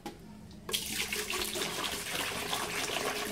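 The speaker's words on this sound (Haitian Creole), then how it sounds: "On va prendre un pot. On va juste mettre de l'eau." Tap water running into a cooking pot, roughly a litre for a home recipe, starting abruptly after a brief quiet moment and continuing as a steady, close, broadband splashing rush with no talk over it.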